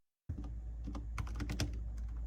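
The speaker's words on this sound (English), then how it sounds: "You want to try typing, Michal?" Fingers typing on a mechanical-feeling computer keyboard, compared against an Apple keyboard, a close, steady patter of keystrokes with a few louder clacks over a low hum, no talking.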